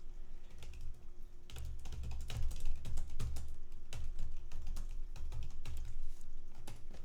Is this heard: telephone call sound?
no